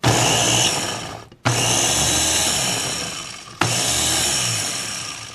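A Ninja Master Prep Pro food processor chops zucchini in three loud bursts of whirring blade noise, each a couple of seconds long with brief pauses between, close up with no talking.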